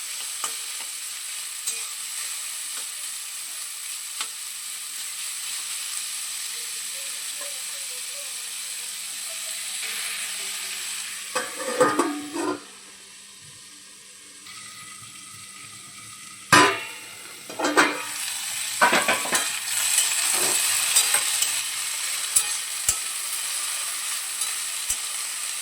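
Vegetables are stirred in ghee in a pan, a steady sizzle with clusters of spatula scrapes and clatters, close and clear with no talk, the frying dropping briefly quieter midway.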